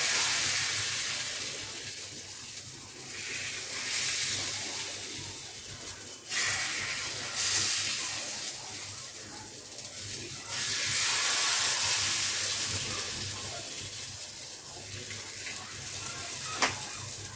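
Chitai pitha batter sizzling in a hot pan, a continuous loud hiss and crackle that swells and eases in waves, with no voice over it.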